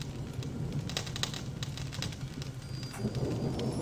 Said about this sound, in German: Leute, ein erfrischender Regen.